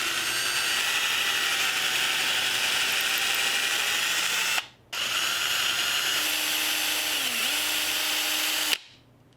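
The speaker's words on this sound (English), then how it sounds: "I'll drill 2 holes staggered, stopping when I reach that flag." A power drill bores holes into wood in two long, loud whirring bursts separated by a brief pause, then stops sharply again at the end. The sound is close and there is no talking.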